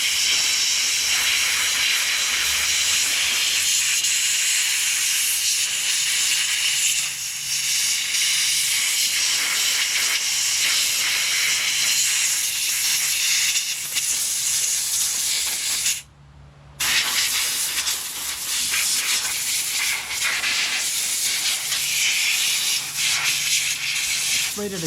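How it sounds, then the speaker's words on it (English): Compressed air hisses steadily through the parts of a Smith & Wesson M&P 15-22 rifle, a loud, continuous spraying rush that cuts out briefly once before resuming. "Blow it out with some compressed air"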